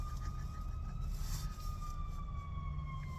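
Emergency vehicle siren wailing steadily in the distance, a single held tone drifting slowly down in pitch over a constant low traffic rumble, with no voices.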